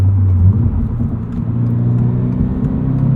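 Toyota GR86 Premium six-speed manual, 2023, with GR Performance Exhaust, driving: a loud, steady mid-low engine drone with a slight rise in pitch, continuous throughout and heard from the cabin.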